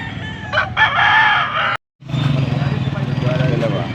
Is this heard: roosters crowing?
yes